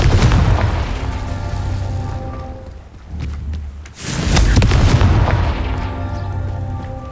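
Confringo blasting spell explosions in the Hogwarts Legacy video game, loud booming bursts with a sharp blast near the four-second mark over sustained rumbling game ambience, no talk.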